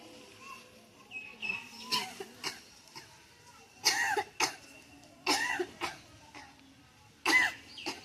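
Several sharp coughs spaced apart over a quiet outdoor background with faint birds and distant children; no clear speech.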